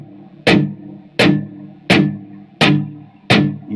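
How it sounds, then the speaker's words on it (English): Five muted electric guitar strum chops from a song intro, struck percussively at an even pace, each a sharp scratchy attack with a short dull tail, played alone up close. "Starts out with a muted sound on the guitar"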